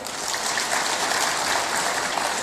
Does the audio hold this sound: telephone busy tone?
no